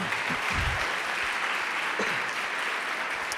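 A church congregation bursts into loud, dense applause that carries on steadily, with no words spoken over it.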